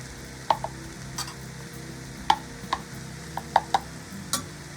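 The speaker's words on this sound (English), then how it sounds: "Now we're going to add the brown rice" Brown rice being stir-fried with tofu and vegetables in a pan, spatula scrapes and clicks landing at irregular intervals over a faint, steady sizzle, fairly quiet and close, with no talking.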